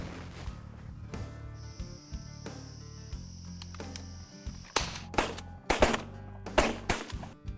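Shotguns firing at doves during a dove hunt in Ontario, several sharp, loud cracks bursting in a quick uneven cluster near the end, with insects chirping faintly in the background beforehand.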